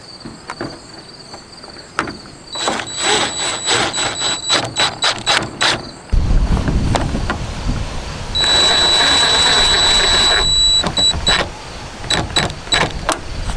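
Screws being fitted while installing a Maxxair roof fan in a campervan, with bursts of high electric screwdriver whine, clicks and clattering taps at close range, no talking.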